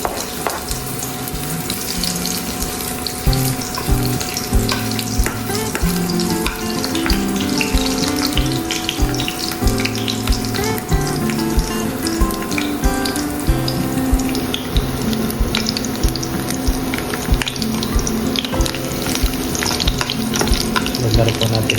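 Ginger fries in a hot pan with a loud, continuous sizzle that holds steady throughout, joined by faint scraping and clinking.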